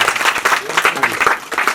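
Guests at a Hindu wedding ceremony break into applause, a dense patter of many hands clapping close by, overlapped by an officiant speaking loudly over the clapping.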